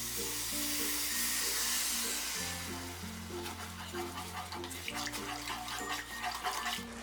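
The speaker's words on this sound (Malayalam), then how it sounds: "ഞാനിവിടെ 1 കപ്പ് പഞ്ചസാരയും 1/2 കപ്പ് വെള്ളമാണ് ചേർക്കുന്നത്" Water being poured into sugar in a pan to make a syrup for a sweet diamond-cut snack, a steady running pour and splash with a low hum beneath and clinks toward the end.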